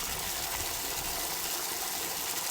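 Steady rush of tap water pouring into a large container to make a citric acid soak, continuous and even throughout with no voices.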